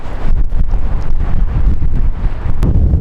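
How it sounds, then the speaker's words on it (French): Strong wind buffets the microphone on an island off Brittany, a loud continuous low roar with gusting rumble and no voices. "Il y a tellement de vent."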